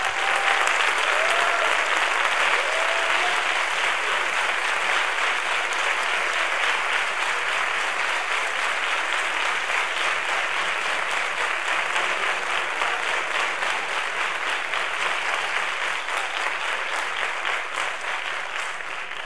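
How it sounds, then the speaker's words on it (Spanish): An audience gives sustained, loud applause at the end of a lecture on the Moorish legacy in Andalusian culture. The dense clapping runs evenly for nearly twenty seconds, then tapers slightly toward the end. "un aplauso grande se lo merece Carlos José, ¿no?"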